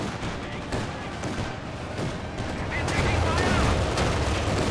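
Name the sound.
machine gun fire in Company of Heroes 2 video game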